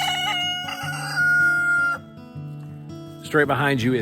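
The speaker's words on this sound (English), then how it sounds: "I'm gonna move away from that stinking rooster" Rooster crowing near a homestead chicken coop and barn, a loud drawn-out call mixed with someone talking close by.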